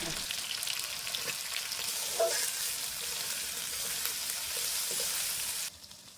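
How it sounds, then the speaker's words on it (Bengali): Sliced potatoes fry in a pan with a steady, loud, close sizzle that holds for about six seconds before suddenly dropping away, with no voices. "আলুগুলো এখন হালকা নাড়িয়ে সারিয়ে একটু ভাজা ভাজা করে নেব।"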